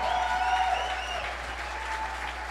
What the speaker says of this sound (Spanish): Póngase de pie y aplauda al rey por un instante.